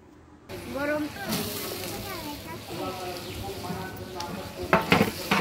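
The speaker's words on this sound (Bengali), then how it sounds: "এই যে ওনার হাতে যে খুন্তিটা দেখতে পাচ্ছেন, সেটা কিন্তু বেশ ভারী" A heavy metal spatula stirs a large cooking pot during outdoor cooking, giving soft scrapes and a faint sizzle under steady talking, with sharper metal clanks near the end.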